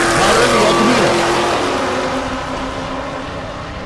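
A 2017 Camaro and an El Camino launch side by side in a drag race, a loud, dense engine roar that peaks early and then slowly fades as the cars pull away.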